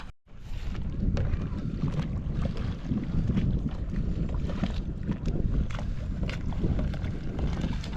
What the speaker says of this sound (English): We are out here kayaking.